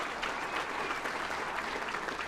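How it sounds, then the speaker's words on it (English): Steady applause from a crowd at a Dalhart Wolves football tribute, dense continuous clapping filling the whole stretch with no talk over it. "That clap, that applause is as much for that 30 team"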